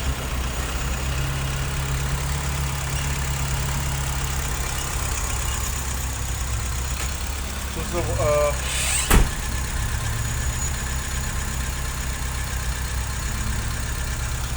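A steady low idle from a 1.2 to 1.4 litre car engine rumbles throughout, with a brief clatter near the end; no one speaks over it.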